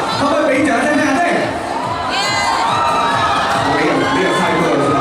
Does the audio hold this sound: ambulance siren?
no